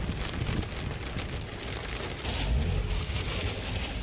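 Steady heavy rain in Dubai pattering on a surface with gusts of wind, a continuous dense hiss with no voices.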